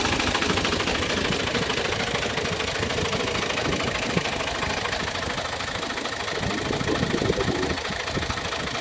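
A New Holland Alghazi tractor engine runs steadily nearby, a loud knocking diesel idle with a rough, even rhythm and no talk.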